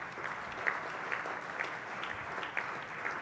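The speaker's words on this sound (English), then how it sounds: "So a big, round of applause to the GEIS India leadership team." Audience at a groundbreaking ceremony for an Eaton GEIS manufacturing plant and headquarters claps for the India leadership team, with a steady patter of many hands heard from a distance at moderate loudness.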